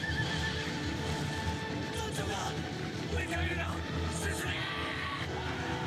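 A horse whinnies in an Attack on Titan anime scene, loud and close, with hoof clatter and shouting in a busy, dense soundtrack.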